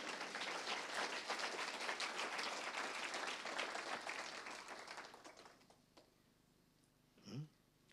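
A church congregation claps together in a dense, sustained wash of applause that fades out over several seconds, leaving near quiet and a brief voice at the end.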